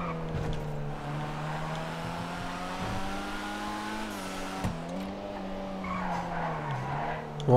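A Sierra RS-style car in GTA Online engine drones and tyres squeal in long skids as it brakes late and slides, with sharper bumps partway through and no talking.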